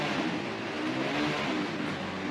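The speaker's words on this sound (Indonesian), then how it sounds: "kenapa ada distraksi suara motor di luar sana" A motor engine revs somewhere outside, a steady mid-distance drone holding at moderate loudness with slight swells in pitch, no voices over it.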